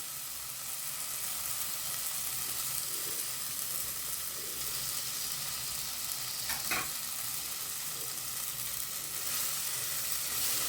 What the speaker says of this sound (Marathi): या स्टेजला आता आपण बटर देखील ॲड करणार